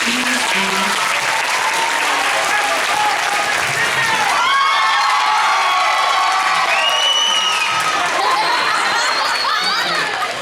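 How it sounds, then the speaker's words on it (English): Live audience at a Sleepy Hollow show claps and cheers for the performers, dense sustained applause with scattered whoops and shouts filling the room throughout, loud and close. "One more round of applause for these guys."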